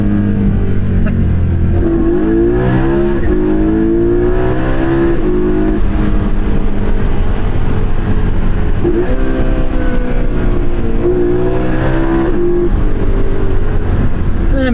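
A 2012 BMW M3 E92 with the DCT gearbox and V8 engine roars steadily while driving, a loud, continuous engine note with rising and falling revs throughout.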